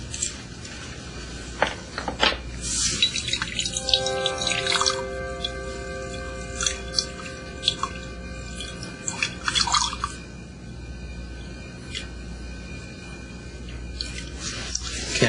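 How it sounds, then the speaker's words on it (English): Distilled water trickles and drips into a glass lab beaker holding a suspension, a faint run of small splashes and splats over several seconds, then quieter drips. "now if you can add the distilled water till it's 50"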